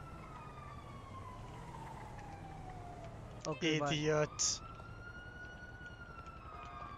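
In GTA V, police sirens wail in a steady rise-and-fall from a distance throughout, with a brief spoken exchange cutting in over them partway through.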